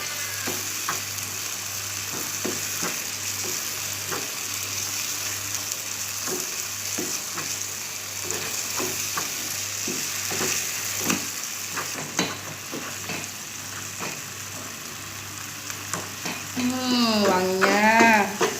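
Tomatoes and spices for Indonesian sambal plecing sizzle and fry steadily in a pan with scattered stirring clicks, and a brief voice rises near the end.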